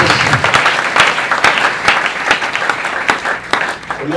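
A church congregation at a repentance service in Brazzaville, Congo, applauds loudly and continuously, with dense, close clapping that rises and falls slightly.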